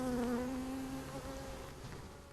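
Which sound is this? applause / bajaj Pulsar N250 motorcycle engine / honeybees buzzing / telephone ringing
honeybees buzzing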